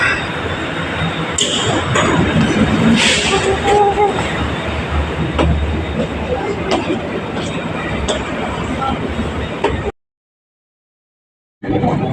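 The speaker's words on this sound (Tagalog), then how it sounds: "Kaya, public transport tayo na MRT." Steady rumbling hum and rattle inside a moving MRT metro train car, with occasional clinks and faint chatter, continuous throughout before a brief cutout near the end.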